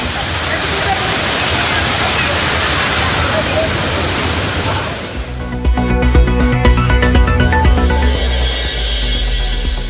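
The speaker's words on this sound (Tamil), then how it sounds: "திற்பரப்பு அருவியிலும் குவிந்து உற்சாக குளியல்." Thirparappu waterfall with crowds of tourists bathing, a loud broadband roar of falling water that dominates at first, then continues under a shift to a busier mix of splashing and crowd babble toward the end.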